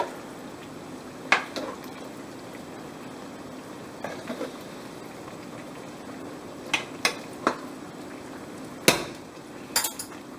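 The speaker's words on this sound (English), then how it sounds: "We're going to give it a little stir" A spoon clinks and scrapes against a pot of Filipino menudo, a handful of sharp metallic knocks scattered over a soft simmering hiss.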